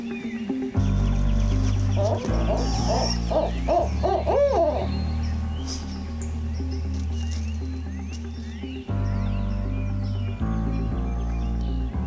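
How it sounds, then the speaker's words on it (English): An owl hoots repeatedly nearby in a field during spring turkey season at dawn, deep rhythmic calls in clear bursts, with other birds chirping and a clucking fowl-like call in between. "I just got dive bombed by an owl."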